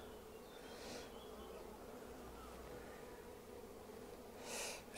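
Honeybees buzzing around a hive frame during a hive inspection after a first swarm, a dense continuous hum heard close up, with a couple of louder swells as bees pass near.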